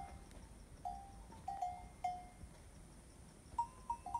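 A small bell hung on a Nepali hill goat rings in faint, scattered metallic tings, a few single clinks and short runs against a quiet outdoor background, with no voices.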